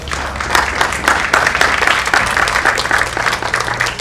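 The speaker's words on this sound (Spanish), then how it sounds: "Un aplauso para todos ustedes." A crowd applauds at the closing ceremony of a children's citizenship course, a dense, sustained wash of many hands clapping, steady and fairly loud from start to finish.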